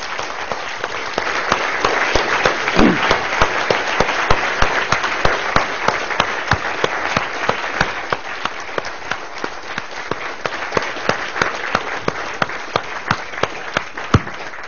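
A large audience claps steadily after a university lecture on science and drug policy, a dense, sustained wave of applause that gradually thins toward the end, with no talk over it.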